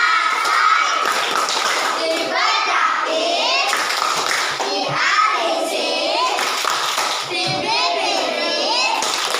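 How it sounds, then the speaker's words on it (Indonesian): A classroom of children performs the Indonesian 'tepuk asoy' chant, rhythmic group hand clapping mixed with loud shouted and sung children's voices, close and energetic throughout. "kita tepuk asoy bersama-sama dalam hitungan ketiga"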